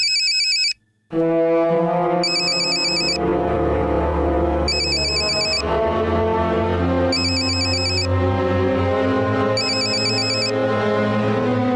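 A telephone rings while a call is placed in a Marathi TV drama, sounding as a repeating electronic ringtone with evenly spaced bursts over a steady synthesized tune, loud and alone.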